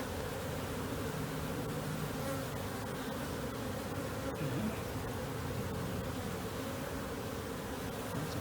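Honey bees from an open hive hum in a steady, continuous drone, with a few individual buzzes passing close by.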